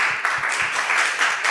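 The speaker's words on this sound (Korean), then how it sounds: "한 번 더 박수해 주시면 좋겠습니다" A church or lecture audience applauds Dr. Kim Yo-han, a dense steady wash of clapping that stays loud and even throughout, with a few low thumps underneath.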